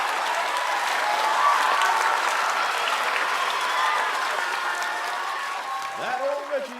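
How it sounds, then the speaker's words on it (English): A game show studio audience claps and cheers loudly, a dense wash of applause that gradually thins, with a brief voice rising near the end. "The audience cheers and claps as the host moves closer to the second podium."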